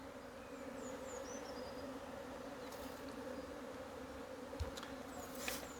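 Honeybees hum in a faint, steady drone around beehives in mild winter sunshine, with a few brief chirps and soft knocks over the continuous buzz.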